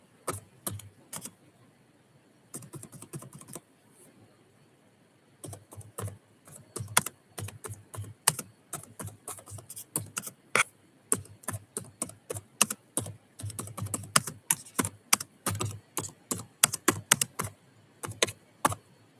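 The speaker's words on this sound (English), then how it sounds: "let me type this one out for you" Typing on a computer keyboard, close and distinct, in irregular bursts of quick key clicks separated by short pauses, growing busier and denser toward the end, with no voice.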